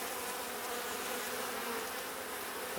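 Honey bees buzz steadily on a hive frame during a hive inspection, a dense close continuous drone with no pauses and no talk.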